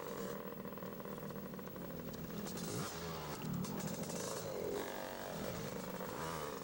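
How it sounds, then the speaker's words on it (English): A trail dirt bike engine revs steadily and loudly as the rider lets out the clutch and pulls away, with the continuous roar staying close throughout. "letting out the clutch and riding away."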